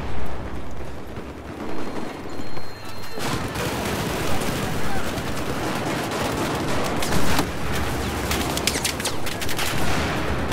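In the video game Battlefield 4, a shotgun sounds among dense, chaotic gunfire: repeated heavy blasts and rapid bursts that pile into a continuous roar, with a brief lull near the start.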